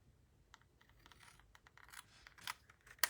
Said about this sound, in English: And I cut off the second one.